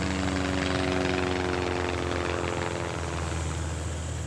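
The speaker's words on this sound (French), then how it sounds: "Aux commandes de cet avion, Jacques Maria." A small propeller airplane flies over the castles of Savoie, its engine drone steady and loud throughout with a sustained tonal hum, no voices heard.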